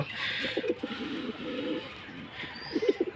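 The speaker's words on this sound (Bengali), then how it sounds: "আমার বাসায় চার জোড়া কবুতর আছে" Pet pigeons coo softly in a home loft, low throaty coos repeating in short bursts close to the listener, with faint background hiss.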